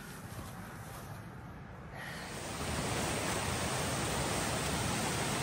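A small cascading waterfall on an Appalachian trail rushes as a broad, steady roar, swelling louder after the first couple of seconds and holding constant, with no talking.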